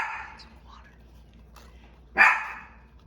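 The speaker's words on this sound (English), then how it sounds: "Our dog wants to get in on the action." A pet dog gives a short, sharp bark close by near the end of the clip, following a few faint whines and yips over a quiet indoor background.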